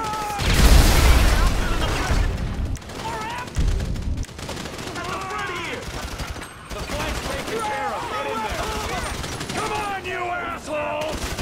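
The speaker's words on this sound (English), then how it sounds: "So I guess we're shooting our way out of here!" Gunfire in Grand Theft Auto 5 during a heist shootout: a burst of loud close shots and booms, then continuing rattling fire and mechanical clatter, with shouting voices over the top.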